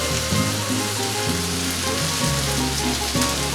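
Onion and garlic sizzling in a hot pan for beef paella, a loud, steady crackling fry with bursts of stirring, close up and uninterrupted by voices.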